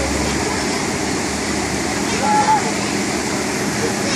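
The Wild River log flume water ride at Skegness, Lincolnshire, gives off a steady, loud roar of rushing water that runs unbroken throughout.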